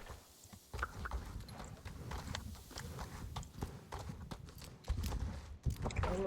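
Horses in the Star Stable Online video game clip-clop along in a quick, uneven run of hoof clicks, fairly close and moderately loud, with a brief voice heard along the way.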